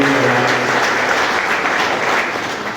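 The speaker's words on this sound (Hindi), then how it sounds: "मैं चाहूंगा कि एक बार जोरदार तालियां आप अपने" Loud, sustained applause from village heads and panchayat members at a cow-protection gathering in Moradabad, a dense continuous roar of clapping that fades slightly toward the end, with a voice briefly heard at the start.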